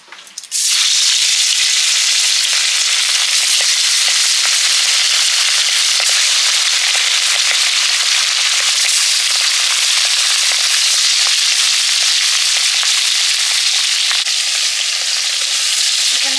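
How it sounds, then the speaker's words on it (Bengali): Hilsa fish frying in hot mustard oil gives a loud, steady, close sizzle that runs unbroken from just after the start to the end, with no voices. "ইলিশ মাছগুলো ভেজে নিচ্ছি"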